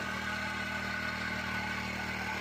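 A four-stroke petrol mini weeder engine runs at a steady, continuous hum with no break in its level throughout.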